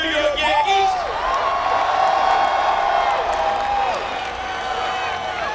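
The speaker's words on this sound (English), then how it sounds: "Are those Mets fans booing?" A large crowd of Mets fans at a Bronx political rally boos, a sustained chorus of low, drawn-out jeers mixed with shouts and whoops across a noisy outdoor space.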